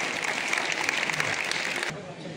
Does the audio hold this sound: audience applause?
yes